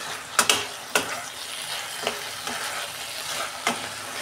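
Okra being stirred and mixed with spices in a pan for a home-style yogurt okra dish, with a steady faint sizzle broken by several sharp spoon scrapes and knocks spaced irregularly, close and alone.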